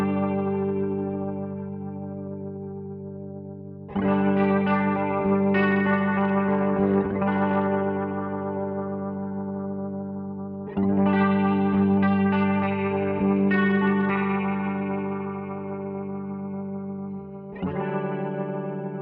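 Electric guitar chords ringing through a Helix triple rotary speaker effect emulating a Yamaha RA-200, with a shimmering, swirling wobble; three loud strummed chords sustain and fade in turn, with no voice.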